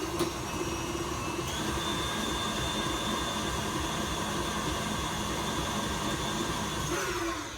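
Electric mixer running continuously through apple cheesecake batter, a steady close whirring drone that holds evenly for several seconds and cuts off near the end, with no voices.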